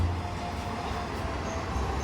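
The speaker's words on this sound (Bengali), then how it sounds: "এই দেখুন আবার একটা ট্রেন যাচ্ছে" Passenger train running from Lalgola to Sealdah, a steady low rumble of wheels and cars rolling past close by, continuous throughout with no voices.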